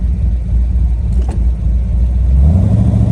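A Ferrari 250 GT California Special pulls away in third gear, its engine a loud, low, close drone that lugs and then rises in pitch as it gathers speed.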